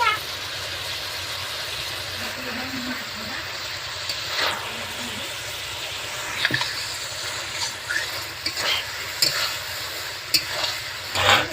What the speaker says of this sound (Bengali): এবারে আমি মাছটা দিয়ে দেব গ্রেভিটার মধ্যে দিয়ে দিলাম